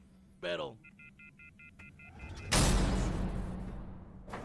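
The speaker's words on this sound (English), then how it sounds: "Was that a phone beeping noise I heard?" A quick run of short, evenly spaced electronic phone beeps, followed by a sudden loud rushing burst of noise.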